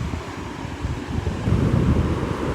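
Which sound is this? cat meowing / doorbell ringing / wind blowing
wind blowing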